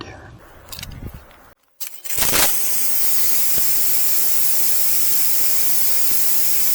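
A Suyncll electric power washer sprays water from its nozzle, a loud, steady broadband hiss that starts abruptly after a brief pause and runs unbroken to the end, close to the microphone.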